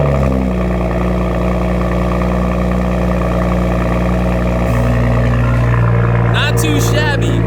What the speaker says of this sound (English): So this should be a loud cold start.